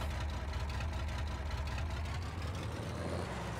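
A tractor engine in Farming Simulator 22 runs as a steady, deep rumble with a low throb. The droning hum is loud and continuous throughout, with no talking.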